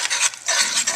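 A roux for seafood gumbo is stirred in a pot, making close, rhythmic scraping swishes in two quick bursts with a short pause between.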